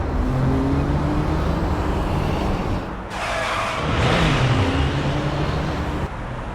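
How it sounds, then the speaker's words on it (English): A car's tires screech in a Guilty Gear Strive cutscene, with a steady engine drone underneath and a sharp squeal swelling in the middle before the motor settles again. "I can hear tires screeching."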